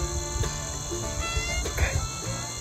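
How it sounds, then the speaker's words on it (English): Crickets or grasshoppers chirping in an open field, a dense, steady high-pitched buzz with faint scattered clicks, fairly quiet and continuous throughout. "There's crickets or like grasshoppers or locusts in this field."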